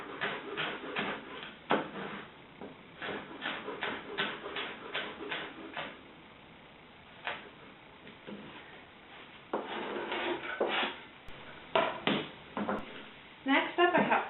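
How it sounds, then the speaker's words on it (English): A chef's knife rocks back and forth through celery on a cutting board, giving a run of quick, close chopping taps in short bursts with brief pauses between them. "it's so easy with this chef's knife, just using that rocking rhythm back and forth to slice it up"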